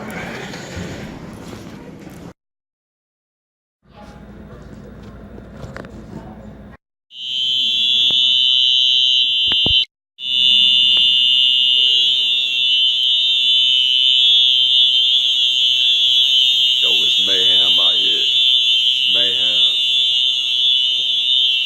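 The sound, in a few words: alarms going off in a courthouse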